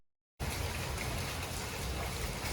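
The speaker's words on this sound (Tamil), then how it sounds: "பாத் பண்ணிட்டு வந்து பார்த்தா ரெயின் வந்துடுச்சு." Rain falls outside a hometown house in a steady, even patter and wash. It starts suddenly after a brief silence and continues at moderate volume, with no voices.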